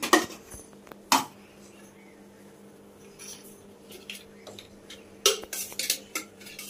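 Metal utensils clank and scrape against a pot while raw banana masala curry with onion is cooked, a few sharp, loud clinks spaced out between quieter stirring and rattling, with no talk.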